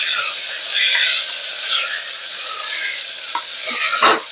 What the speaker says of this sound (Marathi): आपल्याला भाज्या जास्त फ्राय करायच्या नाहीये